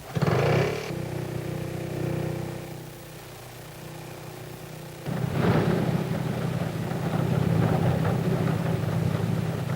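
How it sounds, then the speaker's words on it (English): A Handley Page airliner's main engine at Croydon, turned over by a tiny auxiliary motor, makes a steady mechanical drone that eases off briefly, then swells louder and rougher as the engine catches and runs on. "Tiny auxiliary motor starts each main engine in turn."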